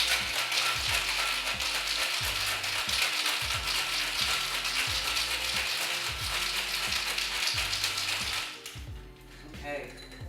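Ice rattles hard inside a cocktail shaker holding a spiked peach iced tea, in a steady, rhythmic back-and-forth for about eight seconds before the shaking stops.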